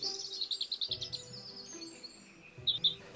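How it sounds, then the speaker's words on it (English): A robin sings in a series of high, thin chirping phrases, a quick run of notes followed by a brief pause and another short phrase, moderately near over quiet background hum. "This time of year is great for robins."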